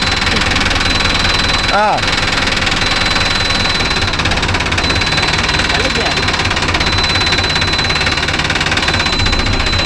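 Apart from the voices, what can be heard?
Mahindra Arjun Novo 605 DI tractor engine running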